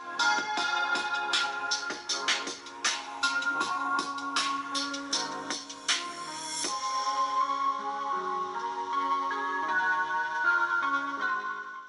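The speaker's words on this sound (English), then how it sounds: "you also get a dual speaker design on the sides of the frame, and yeah, here's a quick sample" Bright music with plucked, percussive notes plays steadily from a Redmi Note 15 Pro+ smartphone's dual side speakers, fairly loud and continuous, with no voices over it.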